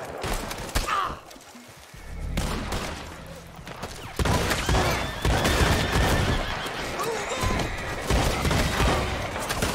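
Gunfire from a newly acquired gun in Red Dead Redemption 2 Online, loud bursts of shots in rapid succession mixed with horse whinnies and game noise, with a voice in places.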